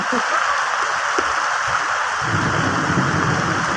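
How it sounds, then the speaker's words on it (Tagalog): Rain pours steadily outdoors during a typhoon, a dense hiss with a low rumble of thunder swelling in partway through, while a person talks over it. "Wala, kumukulog. Kumukulog."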